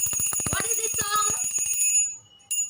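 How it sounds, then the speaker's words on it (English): A hand bell rings rapidly in a steady, fast tremolo for about two seconds, close and fairly loud, then falls silent before one last brief ring. "I am just ringing the bell"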